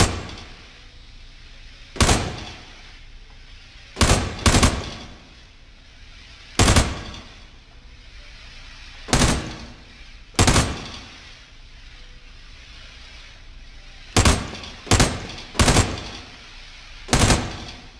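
Gunfire in the video game America's Army as shots hit plaques, sharp loud single reports and quick doubles spaced a few seconds apart, each with a short ringing decay, no talk.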